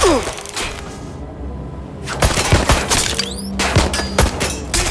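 Gunfire in the video game Watch Dogs: Legion during a firefight, a scattered volley of sharp shots and thuds with a short quieter stretch in between, loud and close.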